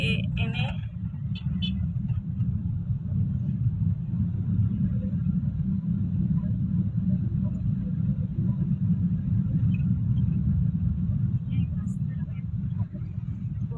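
A car creeping along in a slow traffic jam, its engine a steady low rumble close by for the whole stretch, with a voice speaking briefly at the start.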